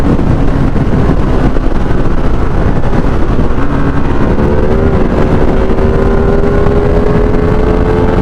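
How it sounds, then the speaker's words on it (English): A Ducati Streetfighter V2 motorcycle's L-twin engine roars loud and steady as it accelerates hard toward the red line, its rising drone continuous throughout, with wind rush behind it. "Pulls very smoothly to the red line."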